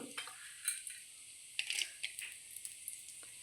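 Mustard seeds, urad dal and chana dal frying in a little oil in a pan, faint scattered crackles and pops with light sizzling, close by and with no one talking.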